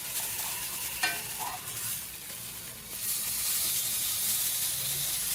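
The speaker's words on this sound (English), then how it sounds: "I'm hoping it has a good enough sear. Let's give it a flip." Meat searing in a frying pan just after being flipped, a steady close hiss and sizzle with a brief clatter near the start, growing slightly louder and more intense in the second half, no talk.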